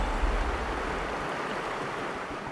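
A creek rushes near a sheep hunting camp in the mountains, a steady broadband water roar with some low wind rumble at first, close and continuous.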